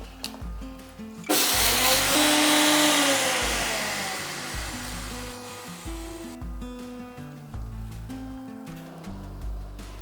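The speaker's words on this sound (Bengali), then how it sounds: "এটাকে এইভাবে শুকনোই বেটে নেব।" Dry spice seeds grind in an electric mixer grinder, a loud whirring roar that starts suddenly, holds for several seconds and fades, with clattering and thumping before and after.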